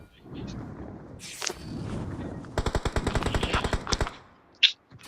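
Gunfire in a battle-royale video game: a rapid, close burst of about a dozen sharp shots follows a low rumbling stretch, then a single brief crack near the end.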